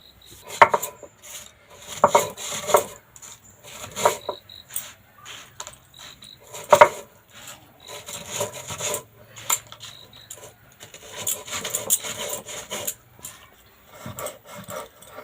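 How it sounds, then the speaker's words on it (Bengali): Oreo biscuits are ground on a stone grinding slab, making gritty scraping and crunching strokes in uneven bursts with occasional sharp clicks, close by and fairly loud, with no voices. "এবার এই বিস্কুটগুলোকে আমি গুঁড়ো করে নেব শিলেতে"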